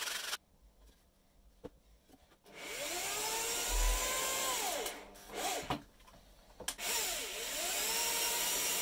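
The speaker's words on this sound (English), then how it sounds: "We could give these a bit of a sanding now as well." Pallet wood pieces get their edges sanded with a power tool, which runs loudly in a long stretch with rising and falling pitch sweeps, after some quiet handling and knocks.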